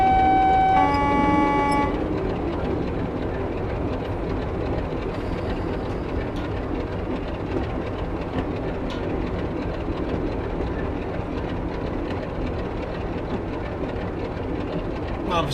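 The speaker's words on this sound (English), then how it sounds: "So here we are coming into Rawtenstall, the terminus of the East Lancs Railway." Simulated train in Train Simulator 2020 pulling into Rawtenstall, terminus of the East Lancs Railway: a brief horn-like tone at the start, then a steady rumble with faint rhythmic rail clatter continuing throughout, no voices.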